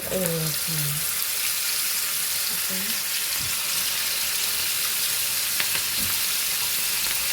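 Hot oil sizzles in a pan after salt is added, with a loud, steady hiss filling the whole stretch close up and a voice briefly heard over it at the start.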